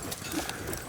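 A horse's hooves clip-clop steadily on the ground during a riding lesson, heard faintly against a busy outdoor background.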